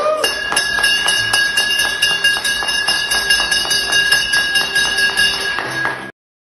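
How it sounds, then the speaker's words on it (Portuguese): A bell is rung repeatedly in a steady rhythm, each strike bright and metallic with a sustained ringing overtone, loud and close, stopping abruptly. "Que maravilha poder tocar esse sino."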